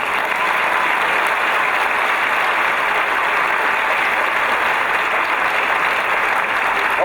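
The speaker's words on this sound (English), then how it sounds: "You may applaud." Applause at a 2015 college commencement ceremony, a dense, steady wash of many hands clapping throughout, loud and sustained from the crowd with no speech over it.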